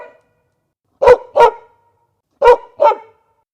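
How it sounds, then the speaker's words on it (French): Sheepdog on a deserted rural road barking at a car: two pairs of sharp, close, loud barks separated by a pause, with no talk. "c'est un chien de berger"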